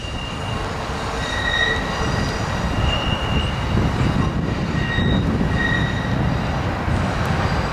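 A passenger train rolls through the Niles Canyon junction, its wheels rumbling loud and close with intermittent high squeals and steady rail noise throughout.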